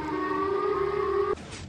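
Siren Head blares in a Minecraft game, a steady, loud tonal siren wail holding for over a second before cutting off abruptly into a brief noisy hiss.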